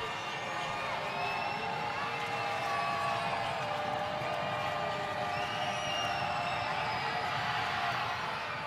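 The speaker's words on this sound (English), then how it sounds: "The crowd gets super loud for Davis's first free throw" A basketball arena crowd at a UTRGV versus Cal Baptist game roars steadily for a free throw, a dense, sustained wall of cheering and whoops heard from within the stands.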